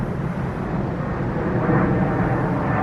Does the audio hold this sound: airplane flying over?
yes